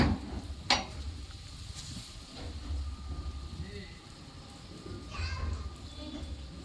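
Spices and tomato frying in a pan for a fish curry, a soft sizzle with stirring and occasional clinks of utensils, while people talk nearby.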